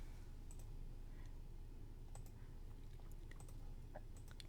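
Soft, scattered computer keyboard keystrokes tap irregularly at a low level over a steady background hum.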